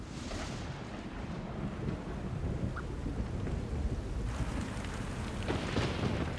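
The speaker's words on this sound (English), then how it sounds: "They patiently await the end of the thunderstorm." A thunderstorm rumbles with low, rolling thunder over steady heavy rain and gusty wind, a dense, continuous wash of noise with no voices.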